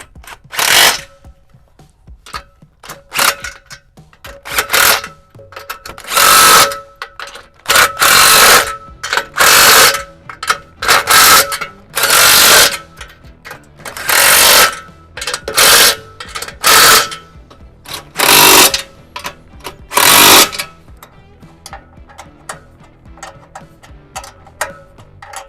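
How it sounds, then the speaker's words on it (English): A ratchet wrench tightens ladder bolts on a roof rack on a 2014-or-later Mercedes Sprinter high-roof van, giving repeated close bursts of rapid clicking separated by short pauses. "I'm gonna tighten down the middle bolts,"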